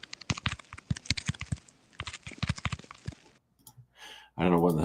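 Rapid, uneven keystrokes clatter on a computer keyboard up close, stop after about three seconds, and are followed by a short pause and then a voice speaking.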